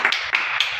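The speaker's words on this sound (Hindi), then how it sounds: "चलिए आशीष के लिए एक बार ताली बजा दो" Students in a mobile phone repair training class clap for a classmate: a short, close burst of a few sharp hand claps, with no talking.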